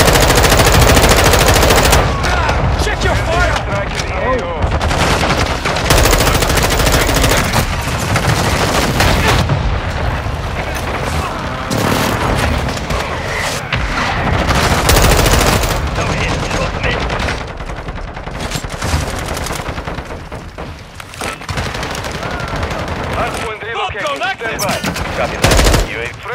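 Sustained machine gun fire in a combat video game, dense rattling bursts loud and close, with scattered booms and voices calling out over the shooting throughout.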